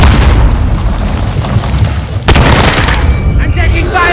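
A grenade explodes with a sharp, loud boom in Call of Duty Modern Warfare, set within continuous dense battle noise and voice chatter.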